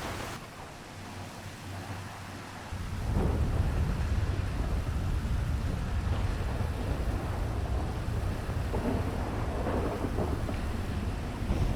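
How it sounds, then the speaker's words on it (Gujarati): A heavy thunderstorm in the video game GTA 5 roars with steady rain and deep rumbling thunder, loud and continuous, swelling a few seconds in; no one speaks. "વીજળીના કડાકા ને થાય છે"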